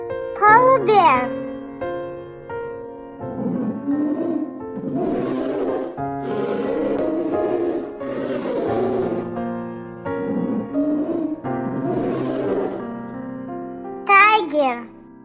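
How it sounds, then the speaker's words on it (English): A polar bear produces a long stretch of low, growling roars and grunts that rise and fall for most of the span, heard over a soft musical backing. "Polar bear."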